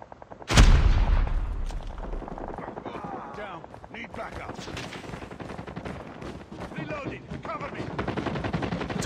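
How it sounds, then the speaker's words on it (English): Gunfire in Call of Duty Mobile, starting with a loud sharp shot followed by a steady rattle of rapid automatic fire and scattered impacts, with game voices over the shooting. "And I know there's a guy shooting up there."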